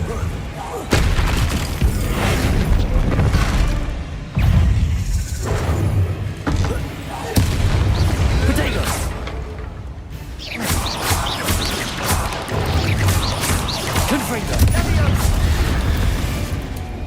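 The Bombarda explosion spell in Hogwarts Legacy sets off several heavy booms and thuds, with crumbling and shattering debris, under a person speaking at times.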